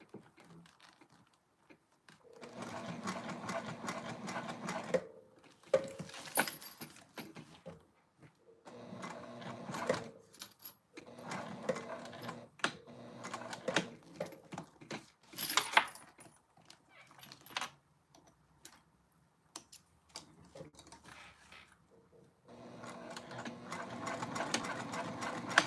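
A sewing machine sews down a lined circle bag with a zipper pocket in several short, uneven bursts of whirring stitching, separated by pauses filled with faint clicks and fabric handling.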